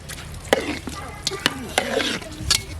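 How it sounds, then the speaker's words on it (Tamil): Biryani in a pot is stirred with repeated scraping strokes and sharp clinks of a spoon against the metal, each stroke close and distinct over a soft background. "இப்போ கிண்டி விட்டுக்கலாம்"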